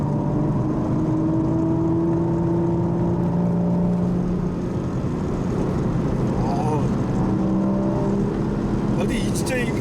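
A manual Porsche 981 Cayman accelerates on the Inje Speedium track. The engine drones steadily and loudly with rising tonal pitch throughout, and voices talk faintly in the cabin beneath it.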